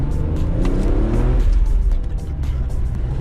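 BMW M3 E36 with 286 hp, its engine heard from inside the cabin around 3000 rpm: a steady, muffled rumble with a rising then settling drone, fairly loud and continuous, no talking.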